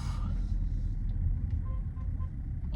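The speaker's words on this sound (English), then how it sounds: "how the car sounds" A Nissan Qashqai engine idles with a low, steady rumble, heard from inside or close to the vehicle, with faint clicks over it.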